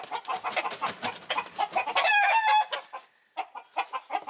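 An aggressive rooster among hens clucks in quick, close bursts, then lets out a loud drawn-out crow mid-way, followed by more clucking after a short pause, all with no talking.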